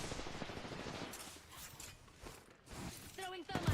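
Gunfire from flanking enemies in the battle royale game Apex Legends, a continuous rattle of rapid automatic shots under steady talk, with a few louder bursts near the end.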